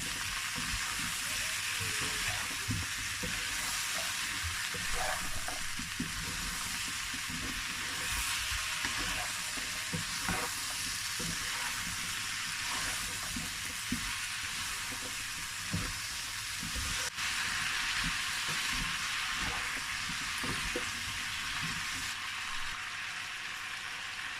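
A vegetable stir fry seasoned with Aromat sizzles steadily in a pan while being mixed, with a continuous bright frying hiss and scattered soft scraping knocks from stirring, close and even throughout.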